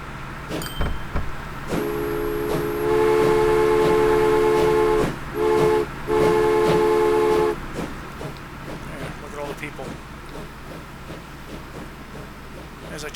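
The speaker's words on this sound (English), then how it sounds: "Yeah, we got 2 trains coming in side by side." Two trains pulling in side by side in the railway-building game Train Fever, with a loud sustained horn blast sounding twice over rumbling rail noise, then fading into softer clatter.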